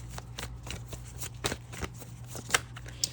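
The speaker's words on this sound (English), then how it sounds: "Let me shuffle on the Wheel of Fortune card here." Tarot cards being shuffled by hand at close range, soft repeated riffling and papery slides with a few sharper snaps, over a low steady hum.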